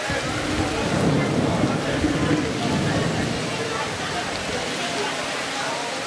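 Loud, steady rain pours down in a dense wash of noise, with people talking underneath it.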